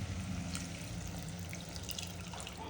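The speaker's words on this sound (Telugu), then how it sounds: "సో ఇదే ప్రాసెస్లో మనం ఏంటంటే కొద్దిగా మనం వాటర్ పోసేసి వెజిల్స్ ఇచ్చుకునేడానికి ప్రయత్నం చేద్దాం." A little water is poured into mutton keema frying in a pan: a soft, steady splashing and trickle, fairly faint, with no talking.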